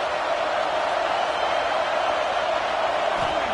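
Simulated stadium crowd in a football video game, a continuous dense roar of cheering spectators holding at an even level without breaks.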